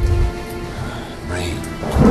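Rain and a low thunder rumble from the Halo Reach video game, a steady loud wash of storm noise over about two seconds, with voices faintly mixed in.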